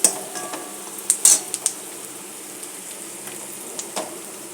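Onions fry in oil in a pan: a soft steady sizzle sits under a few sharp clinks of a utensil against the pan, with no talking.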